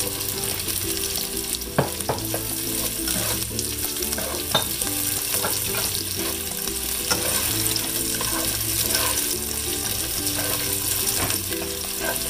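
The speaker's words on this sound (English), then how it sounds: "Now we saute the garlic. Then we're gonna add the onions." Garlic and onions sautéing in a pan for pork caldereta, a steady close sizzle and crackle with repeated scraping and clinking of a utensil stirring against the pan throughout.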